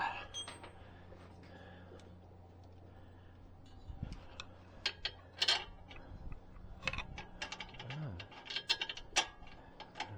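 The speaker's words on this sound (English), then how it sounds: "Let's go ahead and cinch everything down" Hand ratchet tightening the lower ball joint bolt and nuts on a Toyota Camry suspension during CV axle replacement: scattered sharp clicks and metallic ticks in short uneven runs, close, with brief clanks between.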